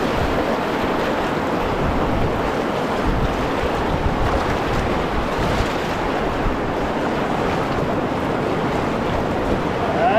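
Canoe paddled through moving water on the Petawawa River in Algonquin, steady broadband wash of water and wind noise throughout, no distinct individual strokes standing out.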